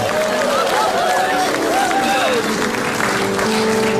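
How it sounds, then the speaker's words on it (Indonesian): An audience in a studio at an Indonesian comedy talk show applauds with dense, continuous clapping and cheering throughout, with voices calling out over the crowd noise. "Tepuk tangan untuk calon Tom"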